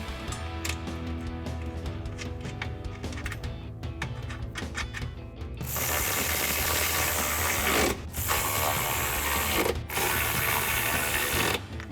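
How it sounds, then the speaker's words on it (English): Ratchet with a 13mm socket tightening mounting nuts for running boards on a Ford F-150: rapid clicking pawl runs, with continuous buzzy ratcheting that pauses briefly twice, close and steady with no talking. "grab our ratchet with our 13mm socket and tighten those down"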